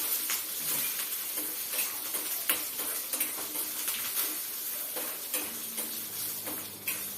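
Steady crackling sizzle of urad dal dry roasting in a hot pan, with occasional scraping stirs and light clinks, close by and continuous.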